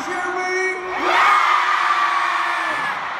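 A concert crowd on a stadium tour stop in New Jersey cheers, whoops and yells, a loud dense roar that swells after a second and holds with high shrieks riding on top.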